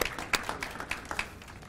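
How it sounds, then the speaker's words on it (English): Brief scattered applause from a small audience at a beautification awards ceremony, uneven claps at moderate distance tapering off within a couple of seconds. "Applause for the honorees."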